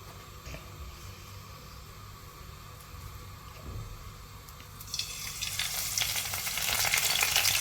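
Curry leaves dropped into hot groundnut oil for tempered puffed rice, rising into a loud, hissing sizzle that builds steadily over a low background hum, with stirring noises and no talking.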